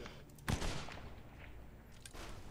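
Cannon fire booms during a pirate ship battle in the video game Blazing Sails, with a sharp heavy blast followed by a rumbling tail and a second fainter volley, all loud and close.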